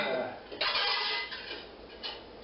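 A bowl is taken from a kitchen cupboard and set down, with a few close ceramic clinks and knocks, a sharper clatter partway through.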